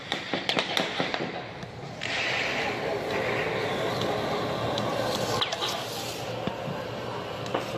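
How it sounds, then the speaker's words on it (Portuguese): Gunfire during a police operation and confrontation in the hillside communities of Rio de Janeiro's north zone: several sharp, distant cracks in quick succession open the stretch, then a steady noisy background with a few more isolated reports. "Olha só o tiro."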